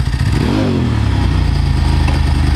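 A 1995 Ducati 900SS SP engine revs up loudly close by, then the throttle hangs and holds at a steady high drone with a throbbing, clattery mechanical note.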